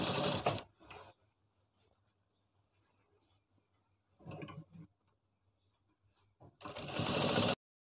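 A sewing machine stitches a ladies' summer coat collar in short, loud bursts of rapid mechanical whirring separated by near-silent pauses, with the last run the longest.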